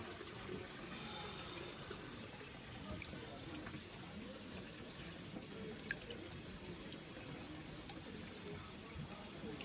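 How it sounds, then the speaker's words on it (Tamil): Water trickles and pours steadily into a container on the Velliangiri hill pilgrimage trail at night. The faint, continuous stream sits under low murmuring voices nearby. "தண்ணி பிடிக்கிறீங்களா?"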